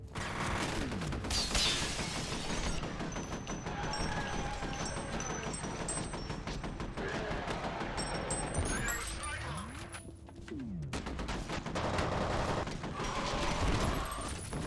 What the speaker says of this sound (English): I'm apparently somehow sniping you with a machine gun